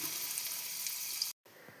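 Two pieces of fish frying in a pan give off a steady, soft sizzle that is close but quiet, with one brief dropout before it resumes.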